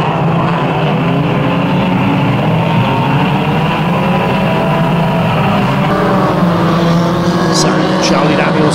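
Unlimited banger racing cars roar around the Kings Lynn oval in a steady, loud, continuous engine drone. A commentator talks over the noise, and a few sharp high clanks sound near the end.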